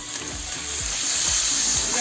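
Spices sizzle and fry loudly in a pan as water goes in, a steady hiss that swells a little while soft scraping stirs underneath.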